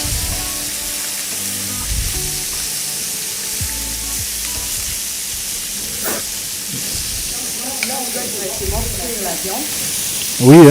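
Meat sears and browns loudly in a hot frying pan with a continuous crackling sizzle and occasional stirring, while a person speaks briefly over it.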